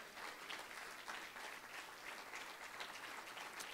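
A church congregation applauds steadily and loudly throughout, a dense, continuous wash of many hands clapping with no talk over it.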